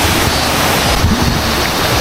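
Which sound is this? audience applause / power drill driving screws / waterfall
waterfall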